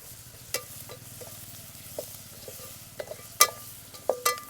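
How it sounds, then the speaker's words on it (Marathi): Onion and spices fry quietly in a pan for dal, with a faint low sizzle under a soft hum, and scattered sharp spatula clicks and scrapes near the end. "मसाले टाकून घेऊ. कांदा चांगला परतलाय."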